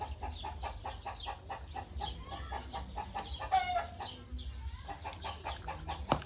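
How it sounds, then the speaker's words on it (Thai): Chickens cluck continuously nearby in a busy, overlapping chorus, with a low rumble of background noise underneath. "บ่ไหวอยู่ดีกับเสียงไก่"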